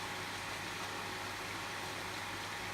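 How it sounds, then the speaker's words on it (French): A swimming pool filtration pump motor running steadily, a constant even hum with a broad airy hiss and no change in level. "J'allais arrêter le moteur pour ne pas faire de bruit"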